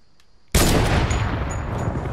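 Video game gunfire erupts suddenly and stays loud and dense, a sustained burst of shots that continues after a quieter opening.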